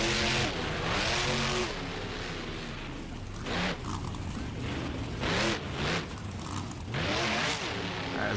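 A monster truck engine in the Monster Jam video game revs and roars loudly, rising and falling in repeated surges with brief bursty peaks, close and continuous throughout.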